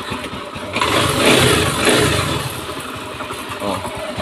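A Honda Beat FI with fuel-injection trouble, a lost 12-volt signal and a wet exhaust runs roughly up close. The engine note is loud and continuous, with uneven surges and no voices over it.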